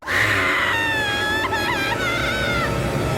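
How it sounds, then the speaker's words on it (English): Eric, a character in a Tony Hawk's video game cutscene, screams loudly and continuously in a shrill, cartoonish wail over a dense roaring background, close and sustained for the whole stretch. "And Eric starts screaming like a damn cartoon character"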